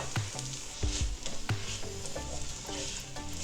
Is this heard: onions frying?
yes